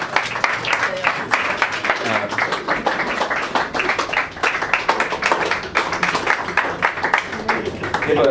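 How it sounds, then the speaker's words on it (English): A gig audience at Whistlebinkies gives a sustained round of applause after Rory and Tim's set, dense overlapping claps filling the room steadily for several seconds with some cheering mixed in. "Round of applause."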